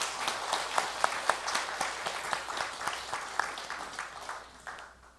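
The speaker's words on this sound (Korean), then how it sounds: "잘 다녀오라고 우리 박수하겠습니다." A church congregation at a Sunday worship service claps together for several seconds, a dense, fairly close wash of many hands with steady rhythmic accents that slowly thins out toward the end.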